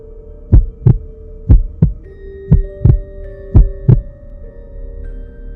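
A heartbeat sound effect pounds loudly and close in paired thumps, about four double beats in a steady rhythm over a low hum, with no voices.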